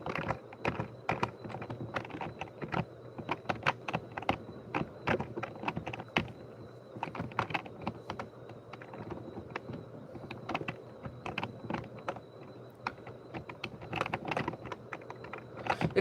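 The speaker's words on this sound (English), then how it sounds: "I love this gaming keyboard." Fingers typing on a gaming keyboard, with irregular bursts of sharp, close key clicks and brief pauses, no voices.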